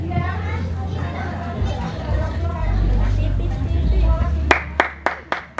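At an Indonesian Independence Day eve gathering (Malam Tirakatan) in Sidokerto, Pati, crowd chatter and voices fill the room before a handful of sharp, separate claps ring out close by near the end.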